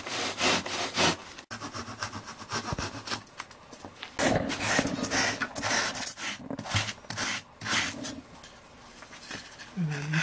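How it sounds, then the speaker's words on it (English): Stainless steel rudder pipe for a sailboat being deburred: close, scratchy rasping strokes in irregular bursts, with brief pauses between passes. "Just taking the burrs off."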